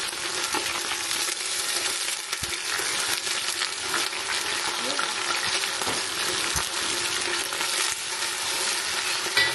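Ginger frying for chicken biryani with water poured in, a loud dense continuous sizzle up close, punctuated by occasional stirring knocks throughout.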